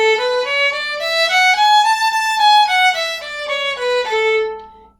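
A violin plays a smooth run of connected notes with separate down and up bow strokes and no gaps between them, rising and then falling in pitch. It sounds close and clear and is heard alone, with no talking.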